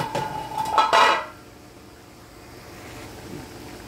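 A pot lid lifted off and set down with a clanging metal rattle and scrape while cooking pinakbet, then vegetables go in with a soft faint rustle under a low background hiss.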